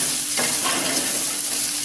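Chilli powder sautéing in oil in a pan for kara kozhukattai, a steady close sizzle with a brief stirring scrape near the start, no talking.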